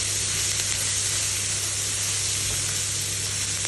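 Egg fried rice sizzling in a hot pan, a steady, close hiss and crackle of frying throughout, with a low hum underneath and no voices.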